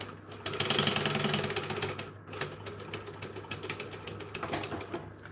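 A sewing machine runs stitches along a homemade market bag, giving a quiet mechanical clatter in two long runs separated by brief pauses, with no voices.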